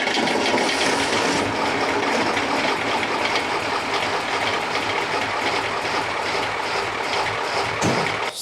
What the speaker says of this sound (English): Start this truck up. see if we could drive it under its own power.